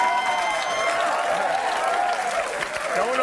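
Studio audience applause and cheering on a comedy talk show, a loud, sustained crowd roar with clapping while a voice carries over it.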